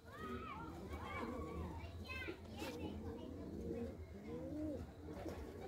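Pigeons, including a red Cheena bird, coo in soft, wavering calls close by, while children's voices and chatter carry on throughout.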